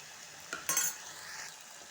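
Capsicum frying in oil in a pan, a soft sizzle with a couple of brief scraping stirs and a light clink near the middle.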